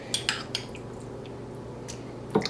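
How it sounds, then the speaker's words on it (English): A large spoon scraping and clinking against a 9x5 loaf pan while meat sauce is spooned into the bottom for dairy-free lasagne, giving a few sharp close metallic taps over a quiet kitchen background. "So let me get a large spoon. I'm going to put some of our meat sauce in the bottom."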